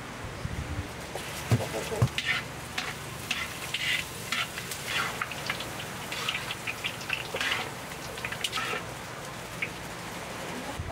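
Annatto seeds sizzling in garlic-flavoured cooking oil, a soft crackle with bursts of spattering and stirring scrapes, heard beneath a person speaking.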